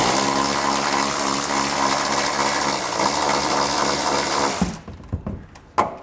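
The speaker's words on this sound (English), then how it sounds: "So you want to take the bolt out." A 15mm exhaust mount bolt is backed out with a power tool while a trailer hitch goes onto a 2023 Chevrolet, a loud continuous mechanical whir that cuts off abruptly and leaves a few metallic clicks and knocks.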